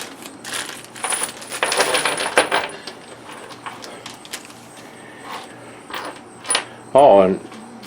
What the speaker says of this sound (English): I don't think I need all of that, but a whole packet of screws and nuts.